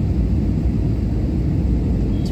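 Steady loud roar of a passenger airplane touching down on the runway at Chandigarh Airport, heard from inside the cabin as a continuous low rumble with no talk.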